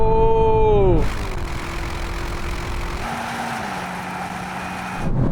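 Audi RS7 and BMW M8 accelerating hard in a drag race, a loud rising engine note that drops with a gear change, then a steady strained whine and another shift before it cuts off.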